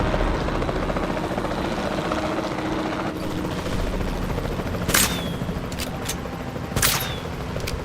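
A helicopter in the Jurassic World Evolution 2 park-building game drones with a steady rotor wash throughout, joined later by two sharp, bright bursts that stand out above the continuous whir.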